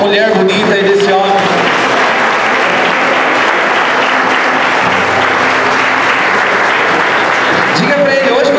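A church congregation applauding during an evening couples' service, a dense sustained wash of clapping for several seconds, with a voice briefly audible at the start and end.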